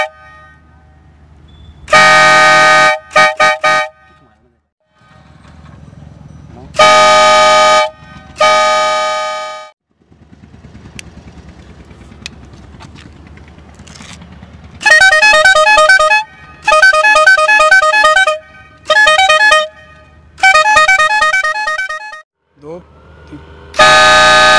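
Air pressure horn fitted to a Hero Splendor motorbike blasts in a series of loud bursts, some short toots and some longer sustained honks, with quieter gaps between them.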